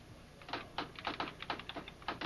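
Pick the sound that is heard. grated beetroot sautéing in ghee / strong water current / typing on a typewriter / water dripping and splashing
typing on a typewriter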